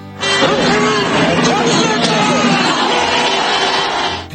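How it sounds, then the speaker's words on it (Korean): Protesters packed into the grounds of South Korea's National Assembly raise a loud, dense roar of cheering and overlapping shouts that runs steadily for about four seconds before easing off. "국회를 접수했다는 환호성"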